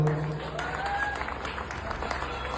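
An audience at a live show clapping in tribute to a late singer, a dense, sustained round of applause heard from within the crowd, with a voice briefly over it at the start.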